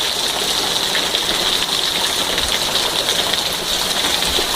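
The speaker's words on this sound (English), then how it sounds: "we're getting lots of wind and lots of rain right now" Heavy rain pouring down during a severe storm with strong wind, a dense, constant hiss of water close by with no pauses and no voices.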